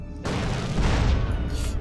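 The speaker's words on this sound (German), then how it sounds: "ich möchte mal trotzdem mit einem RPG mal auf den drauf knallen" A loud, booming blast from an RPG rocket launcher in a modded Grand Theft Auto game, starting abruptly and rolling on as a dense, sustained rumble with no voices.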